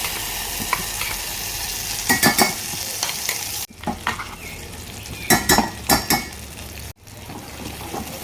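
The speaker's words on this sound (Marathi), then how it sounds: "आता हे वाटण थोडंसं आपल्याला परतून घ्यायचं आहे" Ground peanut paste sautés in hot ghee with cumin for a Navratri fasting curry, a soft steady sizzle broken by repeated clusters of a spoon scraping and stirring against the pan, with two brief sharp cuts.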